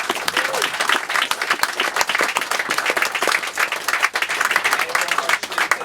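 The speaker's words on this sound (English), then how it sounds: "we give a warm round of applause to all the fine open readers" A dense, steady burst of audience applause at a poetry reading, many hands clapping continuously and fairly loudly throughout.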